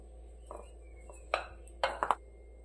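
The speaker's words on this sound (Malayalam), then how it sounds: "ഇനി നമുക്ക് ഇത് നല്ലപോലെ ഒന്ന് മിക്സ് ചെയ്ത് കൊടുക്കാം." Roasted coconut and medicinal powder for a Karkidaka marunnu sweet are stirred together in a bowl, giving a few sparse, soft clinks and scrapes of utensil against the bowl over a quiet background, with no talking.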